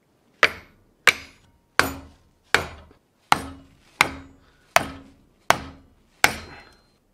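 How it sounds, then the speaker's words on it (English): Nine sharp hammer blows driving a big chisel into its handle, struck at a steady, unhurried pace, each a hard metallic-wooden knock with a brief ringing decay, close by and alone. "And now I need a hammer"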